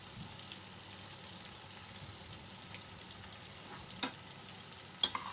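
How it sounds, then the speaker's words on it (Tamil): Onions with a little salt sauté in a hot pan, giving a soft, continuous sizzle close by, with two sharp utensil clicks near the end. "வெங்காயம் நல்லா வதங்கட்டும்."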